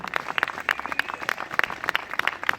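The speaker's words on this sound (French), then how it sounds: "Je vous demande de les applaudir." Carnival crowd clapping for the carnival ambassadors at a prince carnival introduction: scattered, uneven claps over a murmur of voices and a few calls, moderately loud in a reverberant hall.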